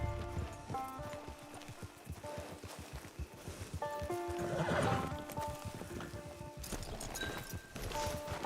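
A horse in the Red Dead Redemption 2 game world clip-clops along with steady hoofbeats, then lets out a loud whinny midway, with a shorter neigh near the end, all close and clear.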